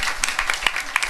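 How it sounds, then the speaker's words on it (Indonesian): A brief spatter of audience clapping at a religious gathering with Sufi dance performers, uneven individual claps close by, with some voices mixed in. "tepuk tangan untuk sonnya ini"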